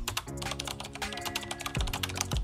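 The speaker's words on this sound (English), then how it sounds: "So I'm going to type in the same thing" Fast typing on a computer keyboard, close and fairly quiet, with rapid irregular key clicks running continuously over a low tonal background hum.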